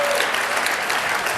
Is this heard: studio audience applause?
yes